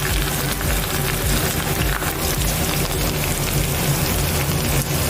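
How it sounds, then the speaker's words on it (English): Chopped onion fries in hot oil inside an iron pot while being slowly stirred for a traditional Uttarakhand lentil curry, giving a loud, continuous crackling sizzle with the occasional scrape of the spoon. "So we'll just slowly stir it well so that it will not burn our onion."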